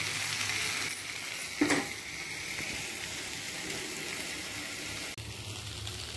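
Spine gourd (bodakakara) curry frying in a pan, a steady close sizzle running throughout with a brief louder stir or clatter near the start.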